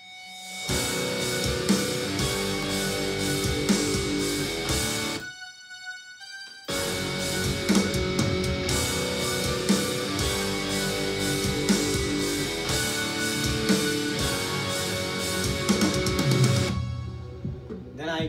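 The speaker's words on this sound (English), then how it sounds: "I use some reversed cymbals and some reversed of the lead guitar, which together sounds like this" Reversed cymbal swells and a reversed lead guitar line build up as an intro for a trap-rock production, a dense wash that drops out briefly near five seconds and then swells back, with no talking.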